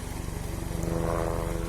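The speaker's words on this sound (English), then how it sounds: "It's a helicopter going over very noisily." A helicopter passes overhead, its low rhythmic rotor chop loud and steady throughout, swelling slightly as it draws nearer.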